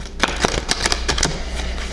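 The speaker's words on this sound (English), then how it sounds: "I will do a few more shuffles here." Tarot cards being shuffled up close: several quick, crisp riffling bursts in an uneven rhythm, with no one speaking.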